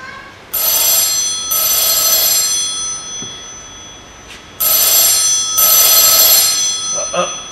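A telephone rings in loud repeated electronic bursts, two close rings, a pause, then two more, with quiet room tone between.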